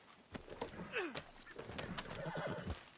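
A horse in the video game Red Dead Redemption 2 whinnies loudly while hooves clip-clop in a quick rhythm, with a faint jingle in the background.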